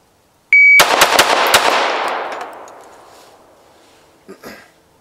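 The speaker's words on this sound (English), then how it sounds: "Four rounds in a second." Four rapid, loud pistol shots crack out within about a second on a concealed carry drill range, each close and sharp, followed by a decaying echo and two faint later clicks or taps.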